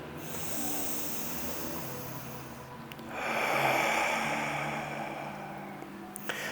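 Deep diaphragmatic breathing during a yoga low lunge: a long, steady nasal inhale gives way to a louder, breathy exhale with a hissing edge, close and alone.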